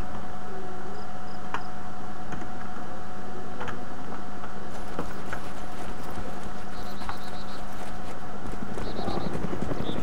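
Helicopter flying in the video game DayZ, a steady mechanical drone with a constant pitched hum and a faint rhythmic rotor chop lasting the whole stretch, with sharp clicks scattered through it.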